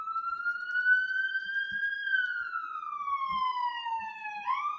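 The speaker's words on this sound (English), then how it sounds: "sorry about the ambulance" A single wailing ambulance siren holds a clear tone as it slowly rises, then glides downward while passing. It is steady and fairly loud, with faint thumps in the background.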